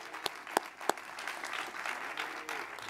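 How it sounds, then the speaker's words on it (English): A few sharp, close claps ring out before a softer, diffuse round of audience applause fills the hall at an after-school summit, the whole burst fairly quiet and brief. "let's give them a round of applause"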